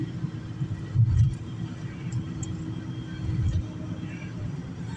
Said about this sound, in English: That roaring noise you're hearing is the wheel bearing that I was talking about.